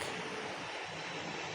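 A police helicopter in the video game Indian Bikes Driving 3D gives off a constant, even engine and rotor drone, moderately loud and unbroken for the whole moment.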